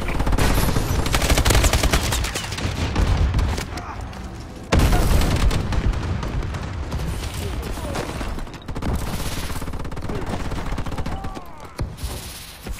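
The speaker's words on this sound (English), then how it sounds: "Friendly bombing run clearing the way." A friendly bombing run in Call of Duty: Advanced Warfare lands amid a dense, nonstop battle din of rattling automatic fire and heavy booms, loud and continuous with a sharp renewed blast partway through.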